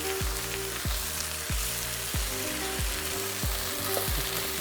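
Baby spinach sizzles and wilts in a hot pan, a steady crackling fry with small pops throughout, close and moderately loud, with no voices.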